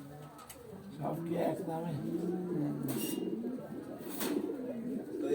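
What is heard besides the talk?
pigeons cooing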